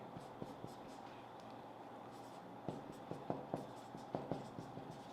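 Chalk or marker writing on a board during a chemistry lesson on nitrogen dioxide, faint scattered taps and short strokes, quiet and close, bunching into quicker marks toward the end.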